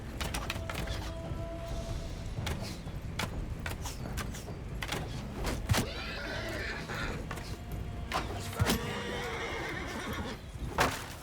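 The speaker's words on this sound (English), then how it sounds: "I was trying to take out the horse." Horses in the video game Mount & Blade II Bannerlord neigh repeatedly amid a battle, with hoofbeats and sharp impacts sounding throughout and the clamour staying busy and close.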